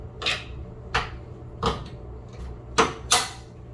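A bi-fold door fitted into its track, making several sharp clunks and knocks spaced irregularly, close and fairly loud, with no voices.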